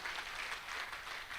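A blockchain conference audience in Abuja applauds steadily, a dense wash of clapping hands that stays at an even level with no voices.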